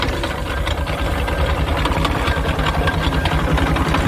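An 1888 Richard Hornsby and Son steam engine passing at a steam rally, a loud close rhythmic chuffing and mechanical knocking with a steady regular beat throughout.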